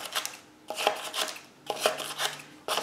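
A Ninja blender whirs in short bursts, with chopping and rattling as paper is churned inside a jar for papermaking, pausing briefly between pulses.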